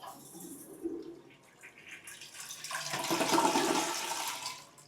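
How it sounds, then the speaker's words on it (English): A weak toilet flush in a beach-trip bathroom in La Union, Philippines: a faint trickle first, then water rushing and swirling louder through the second half, alone with no talk. "That is a weak flush."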